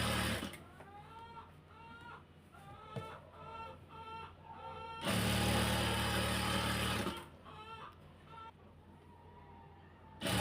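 Lace being machine-stitched onto a hijab, a rhythmic run of stitching bursts with a louder continuous sewing stretch in the middle, close up with no talk.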